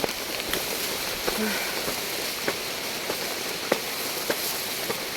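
Heavy rain during Typhoon Kristine pouring down steadily outdoors, a dense constant hiss with occasional louder drips and taps close by.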